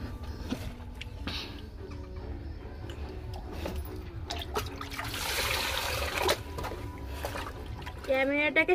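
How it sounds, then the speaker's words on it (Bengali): Tap water runs and splashes steadily as fish are rinsed under it during home cooking, a continuous close wash with brief clatters and a short burst of louder gushing near the end. "আর এখানে মাছটাকে আমি ধুয়ে নিচ্ছি"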